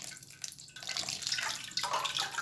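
Cold water poured from a glass into about a kilo of churned cream while homemade butter is being made: a steady splashing, trickling stream that grows louder partway through and continues to the end, with no talk.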